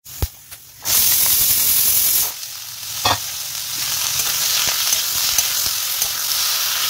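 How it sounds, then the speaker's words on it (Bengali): Potatoes and onions hit a hot kadai and fry with a loud, bright sizzle that then settles into a steady crackling hiss, with occasional clatters of stirring. "এবারে আলু ভাজাটা করব, আলু পেঁয়াজ ভাজাটা রাত্রিরের জন্যে"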